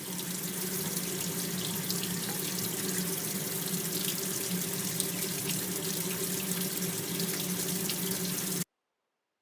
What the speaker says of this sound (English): Water from the faucet deflecting off a spoon.